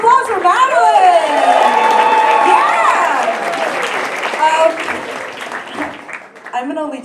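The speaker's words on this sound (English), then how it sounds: "Another round of applause for Madeline!" At a stand-up comedy show in a park, an audience breaks into loud applause and cheering, with whoops and shouts over continuous clapping that gradually fades.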